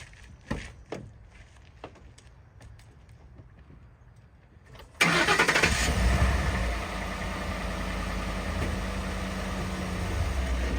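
A car with a big block engine and a 4-speed rumbles to life with a sudden loud onset and then idles or creeps forward steadily, preceded by a few faint clanks and handling noises.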